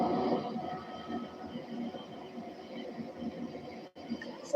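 A train passing at a distance, a faint continuous rumbling and rattling drone that holds steady, then dips briefly before returning.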